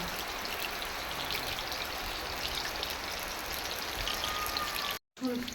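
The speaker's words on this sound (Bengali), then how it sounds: "আমি রেসিপি তুলতে এলেই বৃষ্টি" Steady rain falls outdoors as a continuous broadband hiss with scattered drop patters, heard close and even throughout, cut by a brief silence near the end before resuming.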